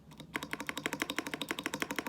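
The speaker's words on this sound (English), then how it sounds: "Just listen to the spacebar stabilizer." Rapid rhythmic clacks from a Ducky One 2 Mini SF 65% gaming keyboard, the spacebar and its stabilizer pressed over and over in an even train of about two dozen crisp, close key strikes with no voices.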